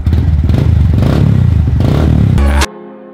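A Honda Grom motorcycle with an aftermarket exhaust runs close by with a steady, pulsing engine note, then cuts off abruptly, leaving a faint tonal hum.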